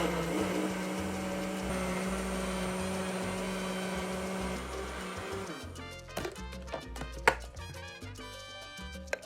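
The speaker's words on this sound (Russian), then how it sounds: "Снова включаем блендер." Kitchen blender pureeing avocado salsa verde with lemon juice and olive oil, a loud steady motor whine that runs for several seconds, then stops and leaves clattering and clicking sounds from the jar.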